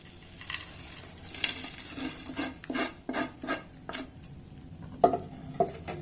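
Peanut ladoo mixture with added dry fruits stirred in a pan: a steady run of close scraping strokes and spoon-on-metal clinks, moderately loud, with no talk.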